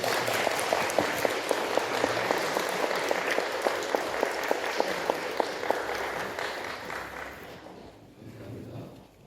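A congregation applauds during a church service to welcome back a returning deaconess: steady, dense clapping for about seven seconds, with a few sharper claps standing out, then it quickly dies away.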